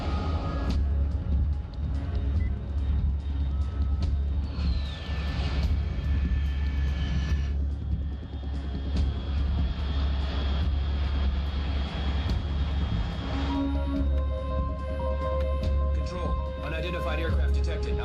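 A fixed-wing aircraft flies overhead in the video game Metal Gear Solid 3, a steady, loud engine roar and low rumble that holds for the whole stretch beneath game voices and other sounds.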